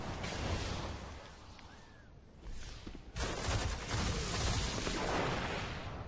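Gunfire from the Iron Banner mode in the shooter game Destiny rattles in dense, loud bursts, dipping briefly near the middle before a heavy volley resumes and continues to the end.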